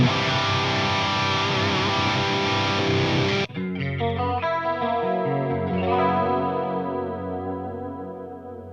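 An electric guitar through a Line 6 Helix on a clean channel rings out with lush chorus and echoing delay, first a dense sustained chord, then clean picked notes that shimmer and trail away.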